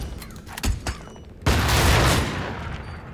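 Sniper gunfire in the tactical video game Tastee: Lethal Tactics: a few sharp reports early on, then one loud blast at mid-clip trailing into a sustained noisy roar.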